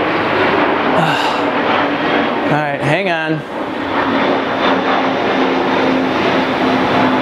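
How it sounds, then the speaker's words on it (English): A loud airplane passing overhead outdoors, its steady broadband roar filling the whole stretch while someone briefly speaks beneath it. "Go away, plane. This never ends. You guys hear how loud this is?"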